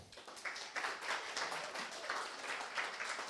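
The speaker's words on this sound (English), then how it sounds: "Can we get a big round of applause for all of them?" Audience at a festive London Sitecore user group meetup applauds the evening's speakers, a soft, fairly distant round of many hands clapping unevenly for a few seconds.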